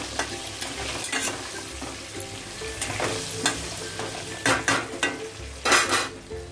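Potatoes browning in hot oil for a chicken curry, stirred steadily with a spatula: a continuous close sizzle broken by scraping strokes and louder bursts of stirring toward the end, with no talking.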